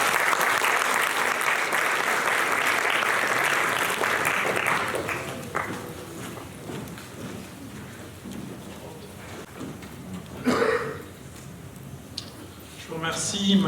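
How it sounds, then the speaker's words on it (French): Audience at a conference on the Malagasy civil service applauds loudly for a speaker, a dense wash of clapping that gradually thins and fades, with a few scattered claps and murmurs near the end. "Applaudissez-le très fort,"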